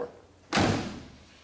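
A rear barn door on a 1988 Chevrolet Suburban Scottsdale slams shut with one solid, heavy thump that fades quickly into a quiet outdoor background.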